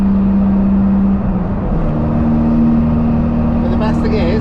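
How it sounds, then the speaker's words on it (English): Toyota MR2 with a diesel engine swap accelerating from around 2000 rpm, a steady droning engine tone that climbs in pitch, with a faint fluttering chatter near the end and someone talking over it. "you put your foot down and it accelerates. Turbo chatter sounds mental."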